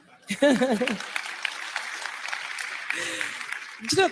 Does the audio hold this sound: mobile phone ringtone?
no